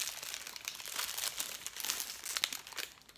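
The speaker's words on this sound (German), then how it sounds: "Kennt ihr dieses Geräusch, wenn es schon raschelt?" Chocolate packaging for Ohne Gleichen coconut and strawberry yogurt bars rustles and crinkles as it is opened, a continuous close crackling lasting a few seconds with no talking.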